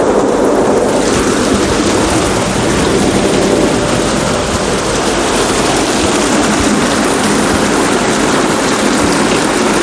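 Heavy monsoon rain pours down in Mumbai, heard from a home balcony as a loud, dense, unbroken roar that fills the whole stretch without a pause.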